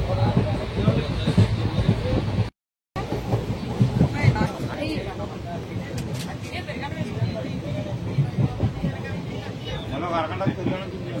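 Interior of a moving passenger train sleeper coach bound for Hyderabad, a continuous rumbling rattle of wheels and carriage with scattered clicks. Voices talk over it, and the sound drops out briefly near the start.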